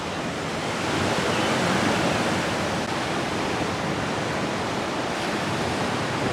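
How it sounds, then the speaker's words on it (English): Small waves crash against rocks along a shore, a loud continuous wash of surf with no voices over it. "The little mini waves crashing."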